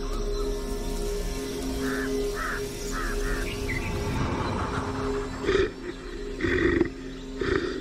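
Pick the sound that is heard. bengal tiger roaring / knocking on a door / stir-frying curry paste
bengal tiger roaring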